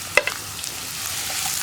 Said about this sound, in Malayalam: സവോള ഇതുപോലെ ചെറുതായിട്ട് കട്ട് ചെയ്യുകയാണെങ്കിൽ വേഗം തന്നെ വഴറ്റിയെടുക്കാൻ എളുപ്പമുണ്ടാവും